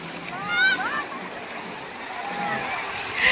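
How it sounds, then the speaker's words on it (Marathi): A big wave splashes and washes in, a rushing watery hiss that swells toward the end, with excited voices calling out over it. "मोठी लाट आली"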